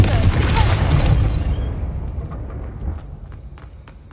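A Confringo blasting spell in Hogwarts Legacy goes off as a deep, loud boom with a rumbling tail that fades over several seconds, leaving faint high ringing behind.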